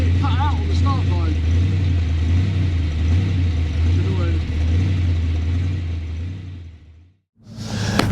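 A 1000bhp V8 Chevy Fastback drag car idles roughly with a loud, lumpy, pulsing rumble and uneven misfire beats, then the engine cuts out to near silence before it bursts back to life.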